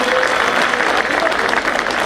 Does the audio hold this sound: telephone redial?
no